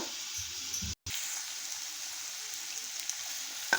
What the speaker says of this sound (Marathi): बघा ही पेस्ट अशी चांगली परतून घ्यायची आहे